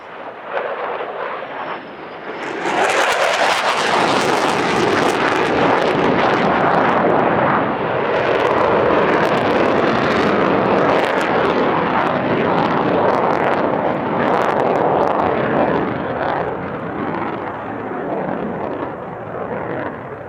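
Thunderbirds F-16 fighter jets roaring through an airshow display at the California International Airshow, a thunderous engine blast surging in after a quieter start and holding loud and rough for many seconds before easing slightly.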